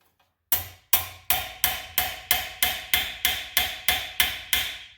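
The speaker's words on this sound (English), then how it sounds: "Now I'm going to kind of take it home in a way and just set that rivet tight. Take my rounding hammer, bring it down." A rounding hammer strikes a rivet at a forge to set it tight, with about twelve sharp, loud metallic blows at a steady, quick rhythm, each ringing briefly before the next. No one speaks.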